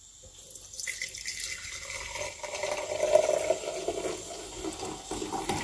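Melted ghee, clarified butter, poured into a clean dry jar: a steady liquid trickle that starts faintly and runs continuously, rising a little in the middle, close by with no talk.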